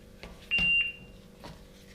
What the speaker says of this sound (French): La centrale, elle fait un bip